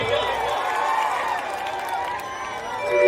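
Crowd applause and cheering at a stage show, a dense steady wash of clapping and voices at moderate loudness, swelling slightly at the end.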